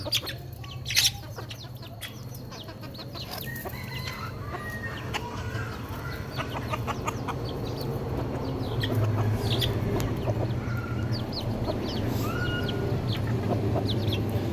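Chickens clucking around a rural Thai yard, a hen with her chicks, with scattered sharp clucks and chirps over a steady low background hum, fairly close.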